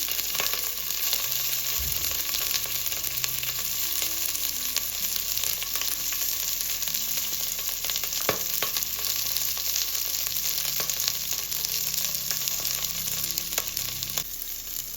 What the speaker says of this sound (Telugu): ఈ పచ్చిమిర్చిని ఇలాగా 2-3 నిమిషాలు మనం ఇలా ఆయిల్లో ఫ్రై చేసుకోవాలి, పచ్చివాసన పోయేంత వరకు.